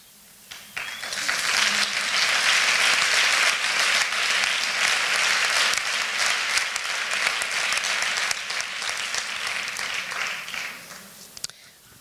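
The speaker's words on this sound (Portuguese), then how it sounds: "Alguém acá, não bateis as palmas porque me roubam o tempo, tá?" An audience at a feminist conference applauds: sustained, dense clapping from many hands that rises quickly, holds loud and steady for about ten seconds, then fades out, with no voices over it.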